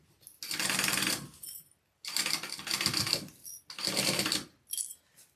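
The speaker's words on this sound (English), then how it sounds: "I'm going to sew all the way around" Sewing machine stitching around a bag seam in three long rapid runs separated by short pauses, then a brief final burst, close and clear.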